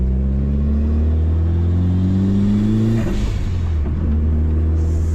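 A 1996 Mitsubishi Lancer Evolution IV GSR roars close by under acceleration, its engine note climbing steadily, dropping abruptly around a gear change, then pulling up again in a loud, continuous drone.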